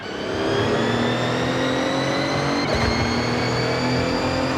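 A supercharged car engine revs steadily in Forza Horizon 6, a loud continuous whine with a brief gear change near the end, close and alone.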